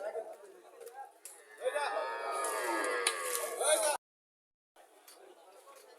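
A Sahiwal dairy cow at a village cattle market in Mirsarai lets out a loud, drawn-out moo lasting a couple of seconds, with crowd chatter around it before and after.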